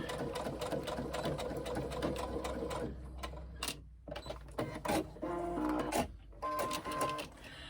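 Sewing machine stitching the edge seams of a carry-all tote bag, running steadily in close, loud bursts with brief pauses and clicks between runs.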